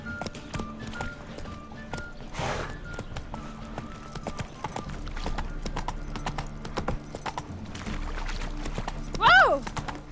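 Galloping hooves of Roach, the horse in The Witcher 3, clip-clop steadily in a fast rhythm over game music and ambience, with a brief whinny near the end.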